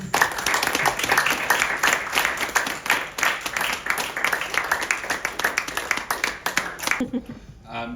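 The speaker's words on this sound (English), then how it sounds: "Can we have another round of applause?" Applause from the audience at a poetry reading in Malibu, steady dense clapping that fills most of the stretch before stopping abruptly near the end, with some voices mixed in.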